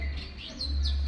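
A trapped pigeon on a balcony gives a couple of short, faint chirping calls over a low steady background hum.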